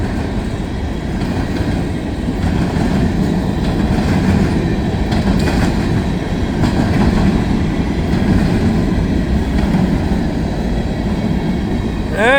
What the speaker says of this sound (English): Unit train of hoppers going into Baldwin Yard.